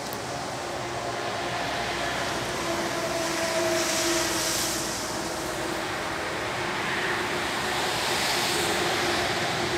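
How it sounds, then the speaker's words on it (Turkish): A high-speed train passing through the Geyve Gorge in Sakarya on a misty, drizzly day, heard as a steady, broad rushing roar that swells and fades gently, continuous throughout with no talking. "Hızlı tren de hemen buradan geçiyor."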